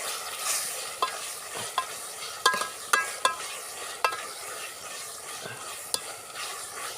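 Ginger garlic paste, hand-ground on a stone, fries in a pan with a steady sizzle. Sharp spatula scrapes and clinks come in an irregular rhythm as it is stirred, close up, with no talk.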